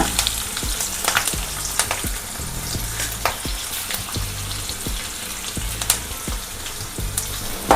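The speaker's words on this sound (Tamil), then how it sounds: "பச்சை மிளகாய் நல்லா பொரியட்டும்" Green chillies frying in hot oil, a busy crackling sizzle with repeated sharp pops and spits spread throughout, loud and close.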